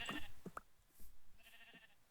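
Sheep bleating in the video game Minecraft, with two or three short nasal bleats spaced apart, fairly close and clear over a quiet background, with no talking.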